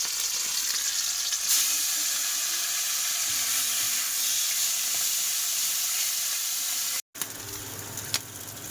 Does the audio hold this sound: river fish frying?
yes